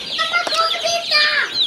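Day-old broiler chicks cheep in a dense, high-pitched chorus of overlapping peeps while being moved as a group, loud and close.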